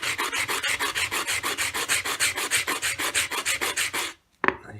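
A stone worked into a small round carving by rubbing it on very coarse sandpaper: a fast, steady rasping back-and-forth of about two dozen close strokes, stopping abruptly, then one brief scrape.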